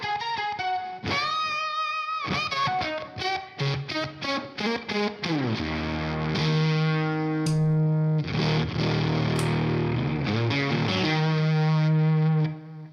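Beetronics Octahive fuzz pedal with its octave switched on, played with an electric guitar: a bright, heavily distorted upper-octave tone carrying a run of plucked notes and chords that swell into long sustained notes, loud and close with no talking.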